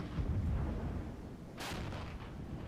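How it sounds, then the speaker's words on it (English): An M109 howitzer fires in the video game Regiments, a deep muffled boom rumbling at the start, then a sharper crack and hiss partway through, heard alone without talk. "Keep that M109 firing away."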